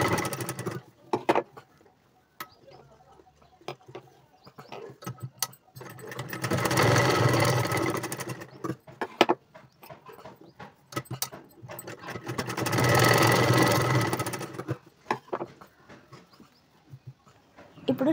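A sewing machine stitches a folded seam on a boat neck blouse, running in two sustained bursts of whirring, rattling noise with quieter handling and clicks between them.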